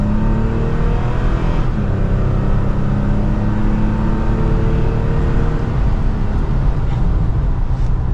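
A 2023 Toyota Tacoma TRD Pro pickup's V6 engine with TRD intake hums steadily with a deep exhaust note, holding a fairly constant drone throughout.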